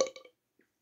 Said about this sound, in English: You can literally suck my burp.